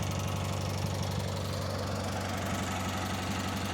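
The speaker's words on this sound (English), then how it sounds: "That engine just does not slow down" A Cub Cadet 782 garden tractor engine runs steady and loud up close, a continuous throbbing drone with mower rumble and vibration and no slowdown.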